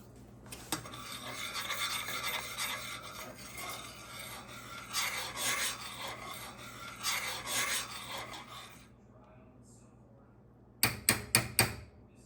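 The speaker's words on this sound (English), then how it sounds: "stir in the apple cider vinegar just for a little pop of acid and a good couple turns of the peppermill" A pepper mill grinds pepper into enchilada sauce, with a long gritty rasping churn that rises and falls through several twists, a brief pause, then four quick sharp clicks near the end.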